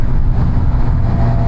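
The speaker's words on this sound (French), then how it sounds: "Ça souffle un peu ce matin là" Steady wind roaring across a microphone on a breezy morning during a test of a 2026 QJMOTOR SRK 421 RR motorcycle, a continuous low rumbling buffet that stays loud and even throughout, with no voices.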